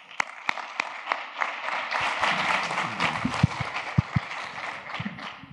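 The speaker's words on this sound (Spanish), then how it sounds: "Un aplauso de bienvenida a Alan y Andrés." Audience applause welcoming two guests at a business talk, a broad wash of clapping that builds and holds steady, with a few sharper, louder claps standing out near the front.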